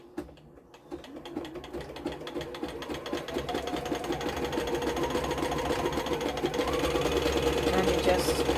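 A sewing machine runs a dense zigzag stitch on fray-prone cushion fabric, a fast, even mechanical whirring that starts after a brief pause and grows steadily louder while a voice talks over it.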